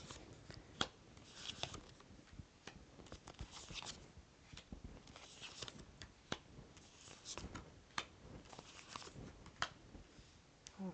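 Tarot cards being shuffled, a quiet, continuous rustle and riffle with soft clicks and taps throughout.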